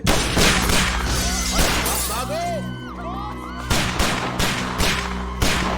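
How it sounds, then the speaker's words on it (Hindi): A rapid volley of sharp cracks like gunfire, with a burst of breaking glass in the middle, layered over a low steady rumble and some voices. "लगता है कोई गोली चला रहा है हम पे।"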